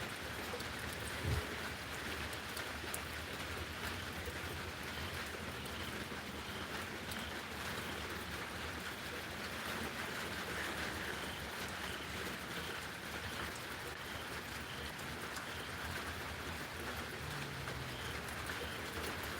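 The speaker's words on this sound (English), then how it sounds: "Rain's kind of coming down sideways." Heavy rain during a dark evening storm, blowing sideways outdoors, a steady dense hiss with no clear gaps and no talking.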